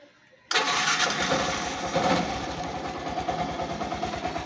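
A Yamaha YTX motorcycle engine, just fitted with a new regulator and battery, starts abruptly after a short quiet moment and settles into a steady, close, rhythmic idle that continues to the end.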